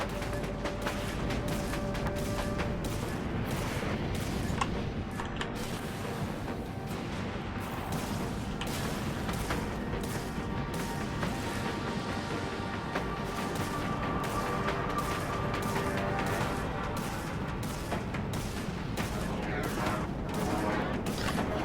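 Ship weapons in the Dreadnought space combat game fire in dense, continuous rapid bursts, a relentless mechanical barrage of repeating shots layered over a heavy rumbling drone, loud and sustained throughout.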